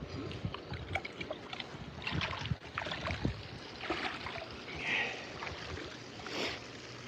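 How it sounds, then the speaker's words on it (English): A small garden waterfall on a farm animal sanctuary, its water pumped up from above, gives a soft, steady splashing wash with light wind buffeting and a few faint knocks close to the microphone. "that waterfall is actually water being pumped from a pump up there"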